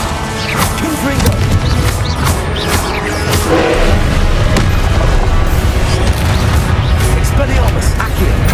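Confringo blasting spell explosions in Hogwarts Legacy, with loud booms and smashing impacts in a dense, continuous combat mix, while voices talk over it.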